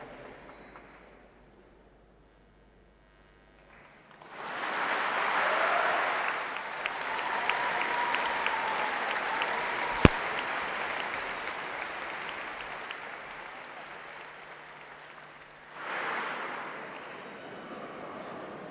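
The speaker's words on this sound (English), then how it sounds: "Can we clap our hands again?" An audience at a remembrance gathering bursts into loud, sustained clapping that swells and slowly fades, followed by a shorter second burst of applause near the end.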